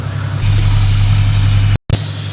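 A car engine that lost antifreeze runs steady and loud close by after a block heater leak, with a low hum that rises slightly, then a brief dropout before it carries on.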